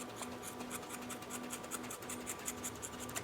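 Old trauma shears cut through thick leather thicker than a belt in a rapid series of faint, crisp snipping and scraping strokes, close up, with a soft hum underneath and no talking.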